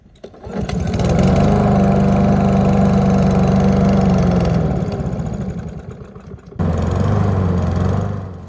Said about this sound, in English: Alright, so I managed to get it to start without stalling, but now it's surging.